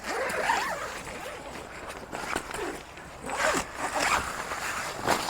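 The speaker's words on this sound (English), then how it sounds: "then you just unzip the door here" A tent door zipper on a rooftop tent is pulled open in several quick rasping runs, close and fairly loud, with faint rustling of fabric between pulls.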